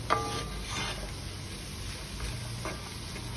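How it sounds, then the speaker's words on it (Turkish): Sliced mushrooms frying in vegetable oil while being stirred steadily, a quiet, even sizzle with a few soft scrapes of a utensil against the pan, heard alone. "sıvı yağda mantarları sürekli karıştırarak suyunu salana kadar bir süre pişirelim."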